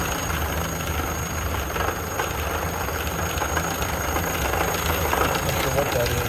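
A running 1928 Ford Model A engine gives off a thin, steady high-pitched whine above a constant low rumbling idle, heard close up without a break for the whole stretch.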